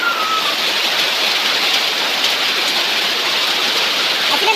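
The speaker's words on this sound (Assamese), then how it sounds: "বৰষুণৰ শব্দ শুনিছা?" Heavy monsoon rain pours down during a flood, a loud, dense, unbroken hiss that holds steady throughout with no clear voices.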